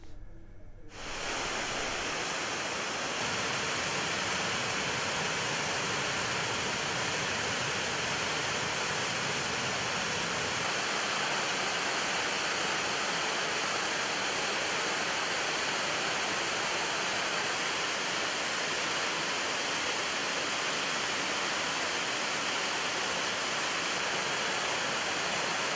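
Strong Cyclone Tauktae winds and a rough sea roar along the Gujarat coast as a dense, unbroken rush of wind and surf that holds steady at full strength throughout.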